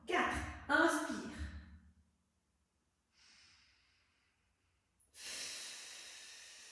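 Breaths during a core strength workout with a soft ball: a voice trails off, then a short faint inhale, a pause, and a longer airy breath rushing near the microphone.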